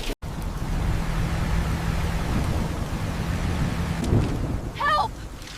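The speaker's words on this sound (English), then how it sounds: "The rain is coming down really hard." Heavy rain pours steadily in a cartoon flood scene, a dense wash of downpour with a low rumble of thunder underneath and a brief higher call near the end.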